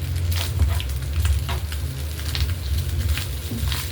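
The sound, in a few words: fish roe frying in a pan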